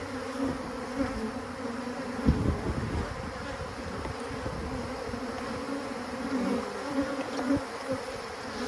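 A steady, close drone of many honey bees buzzing continuously, with a few brief bumps and knocks partway through.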